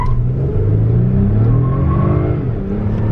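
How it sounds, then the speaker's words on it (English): A 2021 Lexus ES350 accelerating hard from a stop toward 60 mph with some wheel spin, its engine note loud, close and steadily climbing, with no talking. "Let's get our little 0 to 60 here, okay, from a dig, and here we go."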